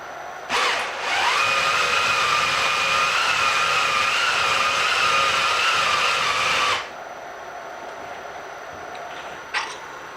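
A reamer cuts a bearing bore in a belt disk sander, running as a steady high-pitched powered whine for about six seconds before stopping, with a brief click afterward.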